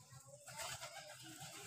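Soft, low cooing of a pigeon at a shrine with an old wooden roof, a faint rolling murmur repeating in a quiet, slightly noisy space without speech.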